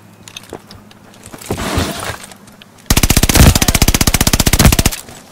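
Cooper Carbine automatic fire in a first-person shooter game, a loud sustained burst of rapid evenly spaced shots lasting about two seconds, preceded by quieter rustling game ambience.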